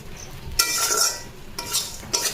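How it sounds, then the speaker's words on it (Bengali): Flattened rice (chira) frying in a little oil in a home kitchen, with a spoon scraping and stirring against the pan in a few short bursts over a quiet background. "একদম কম তেল দিয়ে একটু চিড়ে ভেজে নিচ্ছি।"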